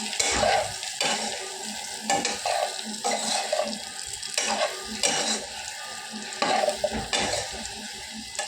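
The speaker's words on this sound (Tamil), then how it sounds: "நல்லா எண்ணெயிலேயே வதங்கட்டும்." Soy chunks (meal maker) fry slowly in oil over a low flame, giving a continuous close sizzle broken by repeated scraping stirs of a spoon against the pan.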